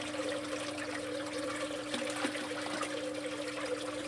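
Water pours and trickles steadily out of aquaponics grow beds with a constant gushing flow, close by and moderately quiet, with no voices.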